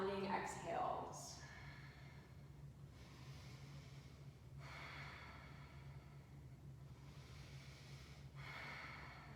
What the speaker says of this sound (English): Find those exhales, really strong Ujjayi sounding exhales.